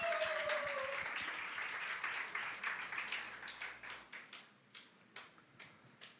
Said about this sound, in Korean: 오늘 또 정회원으로 임명받을 우리 전승일 형제님 나오실 때 큰 박수로 맞으시면 감사하겠습니다